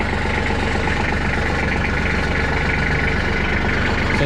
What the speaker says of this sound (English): you can start the tractor, let the clutch out